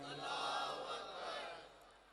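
A crowd at a religious gathering shouts back in unison after the Naara-e-Takbeer call, a loud collective roar that holds for about a second and a half, then fades.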